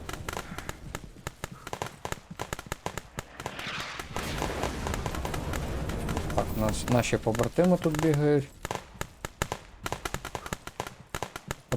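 Gunfire crackles in a war video game, with sharp shots popping irregularly throughout, denser bursts in the middle, while someone talks over the action.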